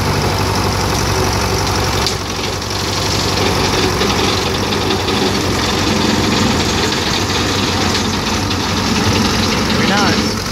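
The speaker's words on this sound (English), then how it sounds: "That's bush hog for you. They work awesome." A tractor runs a bush hog rotary mower through brush and small trees, its engine a loud, steady close drone with rough low rumble throughout.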